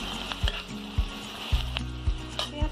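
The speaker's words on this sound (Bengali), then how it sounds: "পেঁয়াজটা একটু ভাজা ভাজা হয়ে গেছে" Onions frying in a pan for khichuri, an even sizzle with periodic low thumps and scraping strokes of a spatula stirring, close and moderately loud with no talk.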